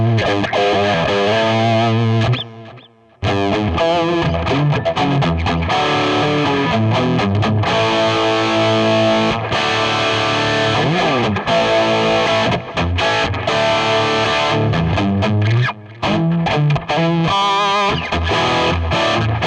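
Distorted electric guitar lead through a Digitech RP1000 lead preset with a compressor in front, playing sustained, harmonically rich phrases loud and continuous, with one short gap near the start.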